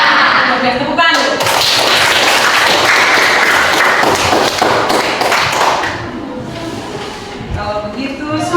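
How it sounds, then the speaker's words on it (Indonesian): A classroom of students claps hands together at the teacher's prompt, a dense burst of overlapping claps that fills most of the stretch before thinning out, with voices mixed in. "Oke, tepukan dulu."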